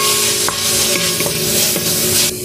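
Minced pork sautéing with tofu in a pan, a loud steady sizzle broken by a few sharp scrapes and taps of a spatula, heard close with no voices.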